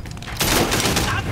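A brief burst of rapid gunfire from a handgun in the Sleeping Dogs video game, loud and close, starting abruptly after a short lead-in.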